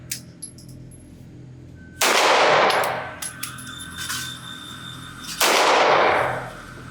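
Two loud, close gunshots from a compact CZ 75 P-01 Omega pistol fired at a shooting range, each a sharp crack with a long echoing decay, a few seconds apart and heard alone.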